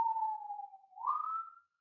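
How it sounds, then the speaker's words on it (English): An emergency vehicle siren passes outside, one clear wailing tone that falls, then rises and sweeps again before cutting off, heard alone and fairly distinct for under two seconds. "Pardon the sirens."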